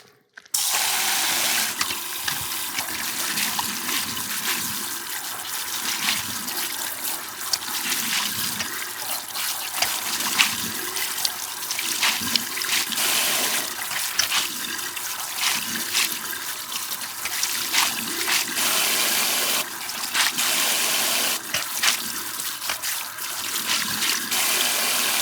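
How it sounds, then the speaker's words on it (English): Water runs steadily for a long stretch while a freshly pokeweed-dyed shirt is rinsed out, a continuous broadband splashing and trickling at close range with no talk over it. "So let's go ahead and rinse the shirt out."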